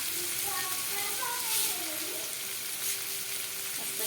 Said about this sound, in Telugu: కరివేపాకు కూడా చూడండి మగ్గుతూ ఉంది